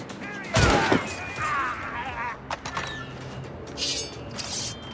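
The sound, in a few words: gunfire from the video game Assassin's Creed Rogue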